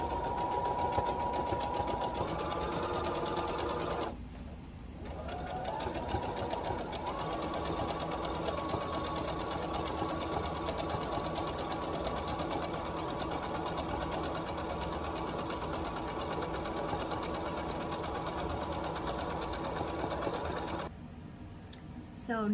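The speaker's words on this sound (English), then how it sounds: "You're going to forward stitch a little bit, and you're going to make sure you back stitch so that you do not lose your stitching." A sewing machine stitches fabric for an infinity scarf, running continuously and fairly loud with one brief pause and a speed change, while a person talks over the hum.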